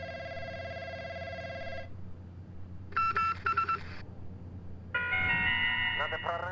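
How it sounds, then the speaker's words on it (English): Electronic phone tones from a payphone code puzzle in the Call of Duty Warzone nuke-event bunker: a sustained tone, then a short chiming burst, then a longer bright confirmation chime, clear and close over low game ambience. "So when you hear the chime on the 3rd phone, then you did it right."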